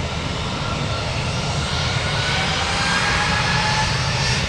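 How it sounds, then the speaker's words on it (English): Continuous loud roar of an Airbus airliner taking off, a steady broadband engine rumble with a faint rising whine, heard from a distance at a busy airport with no voices. "Airbus."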